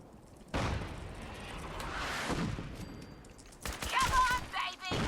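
In the Fallout 4 video game, an artillery barrage hits with a cluster of booming, crackling blasts that swell and recede, followed by sharper bursts of fire and a whistling tone, loud and close.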